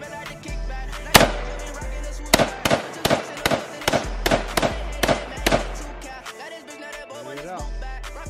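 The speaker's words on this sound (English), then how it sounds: "I loaded up another 10 rounds so he can go ahead and get the feel of the AR. So it's only gonna be 10 shots on this one." Ten sharp shots from a semi-automatic AR rifle fired outdoors, loud cracks spaced about half a second apart in an even cadence, followed by a short quiet tail with faint movement.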